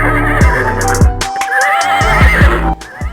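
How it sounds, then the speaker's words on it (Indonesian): A horse whinnies loudly and close up in a long, shaky, descending neigh, with a few short snorting bursts as it trails off. "Kuda adalah salah satu dari 10 spesies modern mamalia dari genus Equus."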